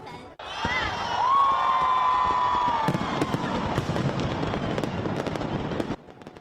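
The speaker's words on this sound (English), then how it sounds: "fireworks set to music" A rising whistle leads into rapid crackling New Year fireworks bursts set to music at Taipei 101 Tower, with a distant crowd cheering and whooping throughout.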